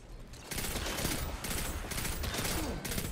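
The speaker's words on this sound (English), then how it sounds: "we have some pulse rifle sounds" Pulse rifle gunfire in Destiny during an Iron Banner match: rapid, steady bursts of shots that start after a brief lull and keep going, fairly faint and dense, with short gaps between volleys.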